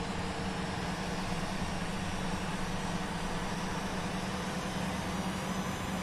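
Jet engines of a Boeing 737-800 in a PMDG flight simulator roar steadily through the takeoff roll as a loud, continuous broadband rumble with a low hum, unbroken and without speech.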